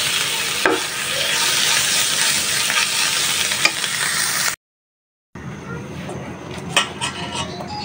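Stinging catfish (shing) curry with tomato cooking in a pan: loud close sizzling with scraping stirs and a few utensil clinks, briefly cut to silence before the frying resumes.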